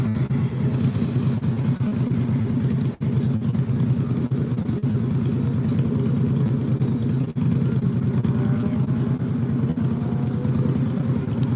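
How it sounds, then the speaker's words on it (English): A fire truck leaving an accident scene at night gives a sustained mid-distance engine rumble, steady for several seconds with a couple of brief dips, and no talk over it. "Fire truck taking off"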